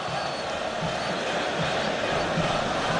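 Egyptian Al Ahly supporters roar in a packed stadium during the CAF Champions League final against Orlando Pirates, a continuous distant crowd din of cheering and chanting with a commentator's voice riding over it.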